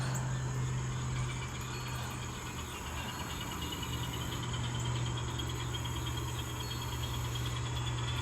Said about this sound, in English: This little engine runs fantastic.